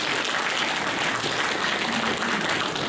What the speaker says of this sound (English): Big round of applause for Colin.